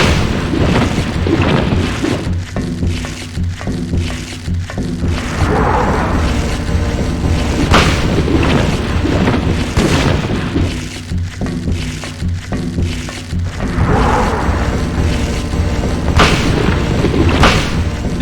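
A shotgun is fired in the video game Silent Hill, with repeated heavy booming blasts spread through a dense, loud stretch of game noise and thuds. No one speaks.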